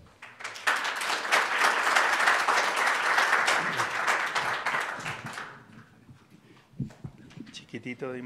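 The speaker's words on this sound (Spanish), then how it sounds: "Recibámoslo con un fuerte aplauso." Seminar audience in Chile breaks into loud sustained applause that swells and fades after about five seconds, followed by scattered microphone handling and a speaker beginning to talk.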